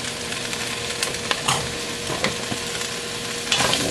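Smoked sausage cabbage soup stirred in a pot: close, irregular scraping and sloshing strokes over a soft, steady sizzle, with no voices.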